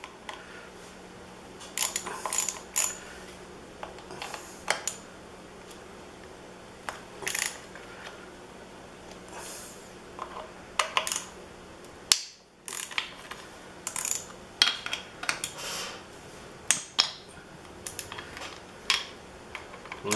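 Ratchet clicking in short bursts while loosening Torx 27 bolts on a Harley Davidson clutch side cover, close and fairly quiet, with brief pauses between runs of rapid pawl clicks and no talking.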